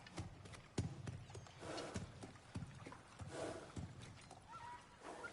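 Kelpie hooves clopping in God of War Ragnarok, a series of irregular thuds with a low snorting, neighing creature sound mixed in at moderate distance.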